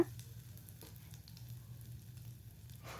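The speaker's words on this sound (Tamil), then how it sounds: "உளுந்து கடுகு நல்லா பொரிஞ்சிருச்சு" Steady crackling sizzle of mustard seeds and urad dal spluttering in hot oil, continuous and close, with no voices.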